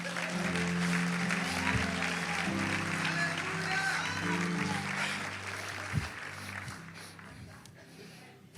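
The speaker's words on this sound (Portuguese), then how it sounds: "Gostei, vamos aplaudir isso." Church congregation applauding during a sermon, a steady wash of clapping that fills the room and holds for several seconds before fading, with sustained keyboard tones underneath and a faint voice beneath it.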